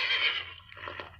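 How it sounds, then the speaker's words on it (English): A short horse whinny sounds at the start, fading into a fainter, broken tail, quiet overall. "This is a horse."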